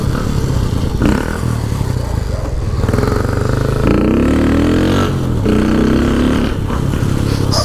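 A Shineray motorcycle with a deflating tire rides close and loud down a street, its engine humming and shifting pitch with rattles and scrapes over the ride.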